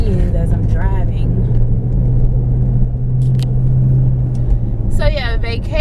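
Steady low road rumble inside a moving car, a constant engine and tyre drone with some faint higher noises and a short burst of sound near the end.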